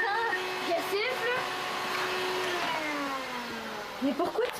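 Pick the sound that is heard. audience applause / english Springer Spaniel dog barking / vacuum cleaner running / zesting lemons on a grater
vacuum cleaner running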